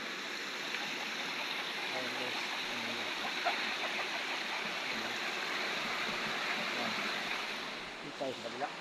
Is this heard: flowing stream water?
yes